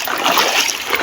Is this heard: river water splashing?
yes